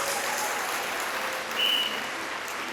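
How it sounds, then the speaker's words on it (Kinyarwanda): Congregation clapping in a church service, a steady wash of applause that carries on evenly, with a faint brief tone partway through. "Ukomera amashyi Mwami Yesu"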